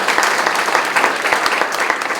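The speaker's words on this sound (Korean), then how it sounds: "다시 한번 박수 한번 해주시죠." Brisk, loud applause from a congregation at a national senior revival meeting held in a church, continuous and close, with no speech over it.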